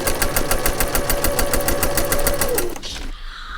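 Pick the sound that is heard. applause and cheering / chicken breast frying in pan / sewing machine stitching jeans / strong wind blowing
sewing machine stitching jeans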